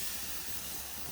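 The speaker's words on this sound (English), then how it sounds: "You're going to be able to hear it sizzle" Steaks sizzling on a wood fire grill, a steady, even hiss of searing meat heard close up, filling the whole short moment without talk.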